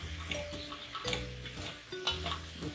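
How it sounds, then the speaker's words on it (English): Crushed garlic being stirred in a pan, with soft scraping strokes and light sizzling, plus occasional faint clinks of utensil on cookware, close and steady with no voices. "Stir."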